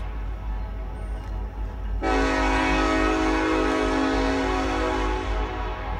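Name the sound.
Norfolk Southern coal train passing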